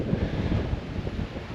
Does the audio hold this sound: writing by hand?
no